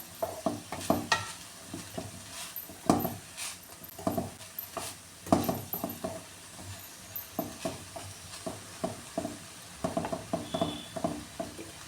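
Long beans thoran being stirred and mixed in a pan, with irregular close scraping and tapping strokes of a spoon over a soft background sizzle, no voices.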